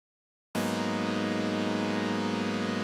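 After a brief silence, a synthesizer chord using a standard drift setting starts abruptly and sustains evenly, rich and warm with a slight shimmering texture, in a French house style.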